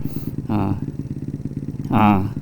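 A small-engine motorcycle being ridden, its engine running steadily and close with a rhythmic putter, swelling into two brief revving surges.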